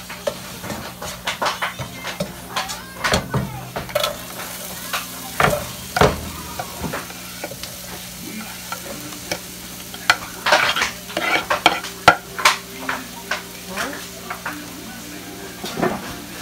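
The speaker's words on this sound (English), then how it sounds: "Okay, I'm going to throw my peppers in there." Peppers sauteing with fresh garlic in a pan for Jamaican rasta pasta: a close, soft sizzle punctuated by repeated scraping stirs and occasional clinks of a utensil against the pan.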